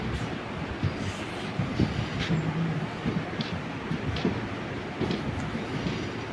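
A Punalur–Nagercoil passenger train running, with a steady, loud rolling rumble and scattered rhythmic clicks and knocks from the wheels throughout.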